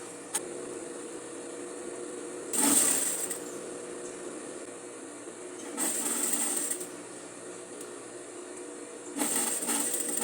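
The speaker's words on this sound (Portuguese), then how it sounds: "Então aqui eu ajeitei bem o tecido e continuei costurando." A sewing machine stitches the fabric hem of a dish towel in three separate bursts of fast mechanical whirring, with quiet gaps of fabric handling in between, all close up.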